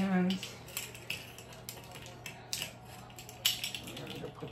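Dry yeast measured out with a metal teaspoon for a Cuisinart bread machine, light clinks and scrapes of spoon against containers at close range, in irregular small taps.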